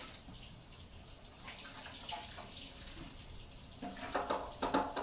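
Tap water runs steadily into a kitchen sink as it is scrubbed, with a soft continuous hiss that grows into brief, louder splashes near the end.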